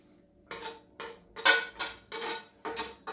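Minced meat is scraped into a frying pan with a utensil: six rhythmic, close, fairly loud scraping strokes, each a short burst with brief pauses between, and no talking.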